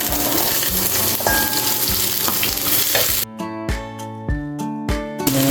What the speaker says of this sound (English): we're going to saute our aromatics. Start with your onion first.